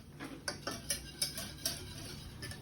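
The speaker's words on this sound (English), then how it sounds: "So I'm going to keep stirring the pasta and make sure it's good." A utensil stirs homemade pasta in a pot, giving soft, irregular clinks and taps against the metal, quiet and close with no voices.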